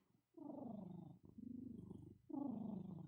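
A voice imitates a cat's purr: low, throaty rumbling in three sustained bursts separated by short breaths, close and quiet.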